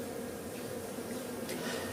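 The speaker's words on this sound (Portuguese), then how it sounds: "São chamadas também de abelhas mansas." Stingless bees, the docile kind kept in Brazilian meliponiculture, buzz in a steady, continuous hum that stays level and close throughout, with no talking over it.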